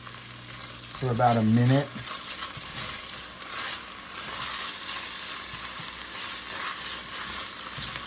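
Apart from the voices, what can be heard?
ginger and garlic frying with onions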